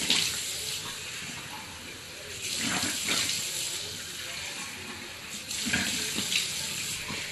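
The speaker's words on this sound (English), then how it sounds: "I'm gonna go in and rinse my hands. Rinse my face off." Tap water runs steadily into a sink while someone rinses their hands and face, a continuous splashing hiss with a few louder surges as the hands move under the stream, close and alone with no talking.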